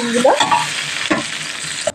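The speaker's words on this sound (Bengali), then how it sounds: "এবারে ভেজে নেবো ভালো করে ডিমগুলো" Eggs sizzling and frying in hot oil for a curry, a steady crackling hiss with a few sharper spatters and clinks of stirring, close and moderately loud with no talk.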